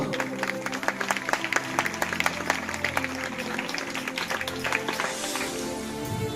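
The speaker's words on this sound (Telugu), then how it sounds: "గట్టిగా ఏసైకి చప్పట్లు" A church congregation claps loudly for Jesus, dense overlapping applause running steadily throughout with some crowd noise and a few voices mixed in.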